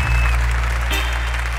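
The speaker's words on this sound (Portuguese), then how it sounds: "Vamos aplaudir o Natan, gente, que está deixando a competição nessa semifinal do Canta Team" Steady, dense audience applause during the semifinal of a televised singing competition, holding at an even, loud level throughout over a low, constant hum.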